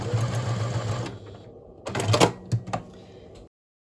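A sewing machine runs a short burst of rapid stitching across the end of a fabric tube, pauses, then gives a few quick mechanical clatters before stopping abruptly.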